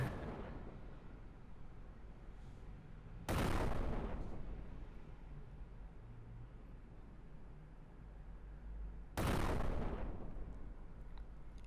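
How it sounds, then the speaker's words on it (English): Two grenade blasts in a shooter video game, each a sudden loud boom followed by a rolling, fading rumble, spaced several seconds apart over a low continuous background. "maybe let's try with a grenade"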